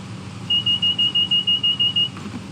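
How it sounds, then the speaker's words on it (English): A locomotive cab's electronic alarm beeps about ten times in a quick, even series of high, loud pulses over a low engine rumble, then stops. "Will you stop doing that stupid beeping?"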